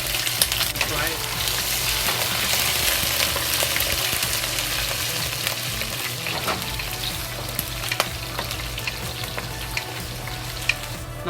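Ginger and garlic fry in a pan for a Hunan sweet spicy pork stew, sending up a dense, crackling sizzle throughout. Occasional clinks of a utensil and a low background hum sit under the frying.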